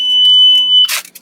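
A steady electronic warning tone from an Audi S6 Avant V10 dashboard, warning of failed rear lights, holds for almost a second, then cuts off as a burst of rustling noise follows.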